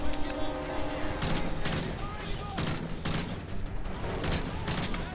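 Scattered gunfire and explosive cracks from a Call of Duty: Modern Warfare 3 battle, irregular bursts and booms over a busy game soundscape, with a few louder shots standing out amid the din.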